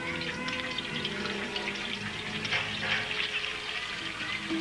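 Water runs in a continuous, faint rush from a shared outdoor tap in a Palestinian refugee camp in 1970, a steady splashing with no voices, on an old, muffled recording.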